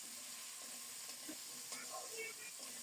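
Potatoes frying in oil, cooked until reddish-brown for a Bengali fish-head murighonto, give a quiet steady sizzle with faint stirring scrapes throughout.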